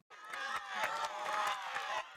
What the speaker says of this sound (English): we've also got a crowd looping noise in the background